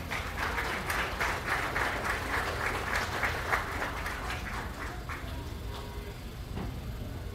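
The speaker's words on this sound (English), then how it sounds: "Give them a big round of applause, please." Sustained audience applause at a county goat show, steady clapping from many people filling the space at moderate volume throughout, with no talk.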